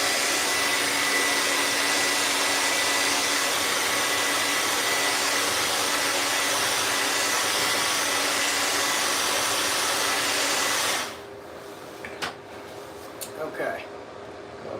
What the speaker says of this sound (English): Let me hit them real quick with a blow dryer.